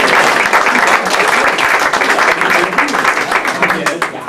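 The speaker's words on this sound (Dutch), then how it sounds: "En een applaus van hem." A crowd at a pearkekeatsen (Frisian handball) prize-giving in Tytsjerk applauds steadily, dense and loud throughout, fading slightly toward the end.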